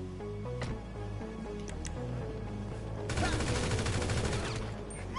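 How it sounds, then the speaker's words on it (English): Gunfire in GTA V Online, a few isolated game shots followed by a dense rapid burst of automatic fire in the second half, loud and continuous over game music and ambience. "You meant to shoot that guy, the driver."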